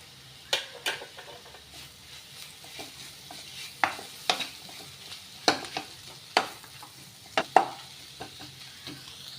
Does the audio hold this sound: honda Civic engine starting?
no